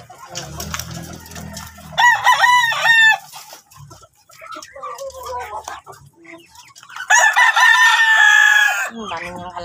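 Chickens and young chicks cluck and peep while a rooster crows loudly nearby in two bursts, once early and once near the end, with quieter clucking between and brief voices underneath.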